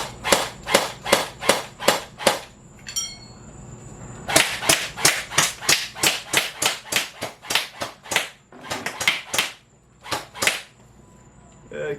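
ACR J10 gel blaster firing on semi-auto at cardboard crates: a long string of sharp, snappy shots in quick irregular bursts, loud and close, with brief pauses between volleys.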